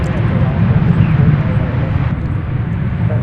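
A Finnair Airbus A350-900 in from Helsinki taxis toward Terminal D at Dallas Fort Worth airport. Its jet engines make a steady low rumble and roar throughout, loud and continuous, with a voice talking over it.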